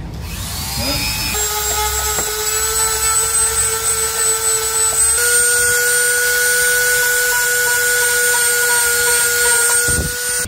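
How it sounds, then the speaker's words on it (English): A Dremel rotary tool grinds away the plastic head of a rivet on a Ford door panel, a steady high-pitched motor whine that holds loud and close for about ten seconds before dropping off at the end. "I'm going to use my Dremel, and what I'm going to do is just grind away the head so that releases the pin through the plastic."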